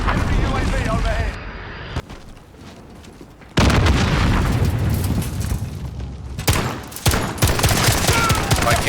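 EBR rifle fire in a first-person shooter video game: loud, close bursts of gunshots and booming blasts, a quieter lull in the middle, then dense rapid shots resuming to the end.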